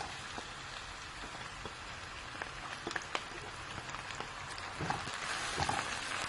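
Carrots sizzle in a pan of oil for chicken vegetable macaroni, a soft, steady crackle of fine frying pops at close range with a few louder spits and no talk.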